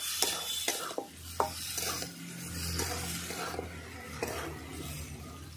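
Spices with half a spoon of chili powder sautéed in a pan, a fairly quiet sizzle under scattered scraping and tapping stir strokes, close up, no speech.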